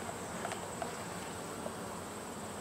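Honeybees buzz around an apiary hive during a late-season check, where they have built comb into a gap. The hum is dense and steady with faint scattered ticks, close and continuous, with no speech.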